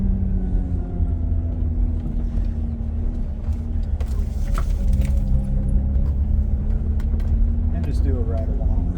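A V6 Toyota Camry with a five-speed manual drives along, its engine a steady low interior rumble with a faint rising whine near the end, and a person speaking over it.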